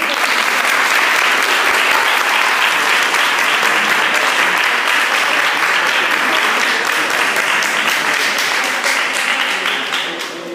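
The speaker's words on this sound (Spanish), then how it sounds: "Va, un aplauso a Julián." Loud, dense applause from a theatre audience at a playback theatre show, continuous for about ten seconds before easing off slightly at the end.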